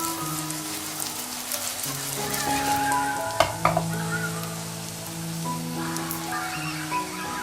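Leavened flatbread fries in a pan with a continuous soft sizzle, joined around the middle by a few sharp knocks and scrapes as the bread is handled, with light tonal clatter in the background.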